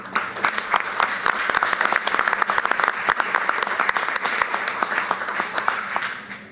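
Audience at a school board meeting applauding its school partners, with dense, sustained clapping from a crowd throughout, close and fairly loud.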